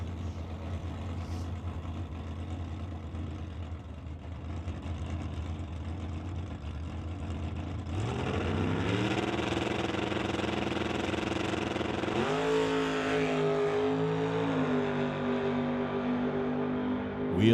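A 1964 Chevy Nova drag car at Mission Raceway, its engine heard at a distance, first a low steady rumble, then rising in pitch and loudness as it revs and pulls away down the strip.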